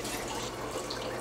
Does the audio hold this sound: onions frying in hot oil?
no